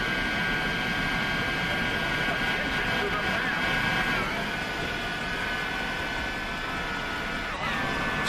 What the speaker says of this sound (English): All these loud engines.